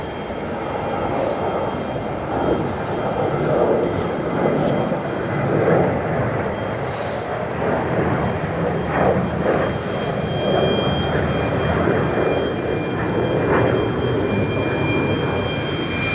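Jet aircraft engines roar at O'Hare Airport, a continuous broad rumble with a high, screeching whine on top, steady and fairly loud from a moderate distance, with occasional swells as planes move on the ground.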